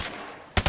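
Two sharp gunshot blasts ring out close together near the end of a quiet stretch in a shooter video game, each loud and broadband with a quick decay.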